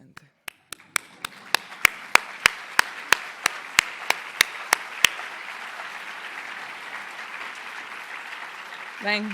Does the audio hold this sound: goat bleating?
no